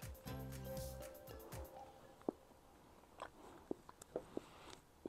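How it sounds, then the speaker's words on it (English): Someone bites into a pistachio cookie and chews, giving soft close crunches and mouth sounds after a brief burst of other noise at the start, quiet and without talk. "Come with me and eat this cookie."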